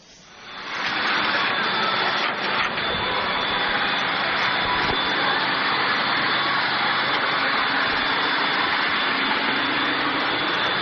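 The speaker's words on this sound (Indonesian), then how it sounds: "Nampak suasana di dalam pesawat saat baru lepas landas dari Bandara Nabire." Inside the cabin of a Merpati MA60 airliner just after takeoff from Nabire airport, a loud, steady broadband engine roar and rushing airflow fill the space, rising quickly at the start and then holding constant.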